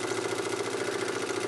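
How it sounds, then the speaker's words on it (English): A small Doll vertical toy steam engine runs on live steam, giving a steady, fast mechanical chuffing with an even rhythm throughout, close and continuous with no voices. "Lovely little doll engine here."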